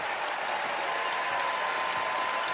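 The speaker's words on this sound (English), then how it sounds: "She'll head for the bench to a nice round of applause from the Gamble crowd." A basketball crowd at the Gampel arena for UConn against DePaul applauds steadily as a player heads to the bench, the clapping dense, sustained and fairly loud throughout.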